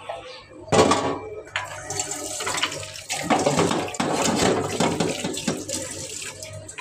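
Water splashes and gushes in a steady pour into a container, close and fairly loud, with small clanks and a faint voice in the background.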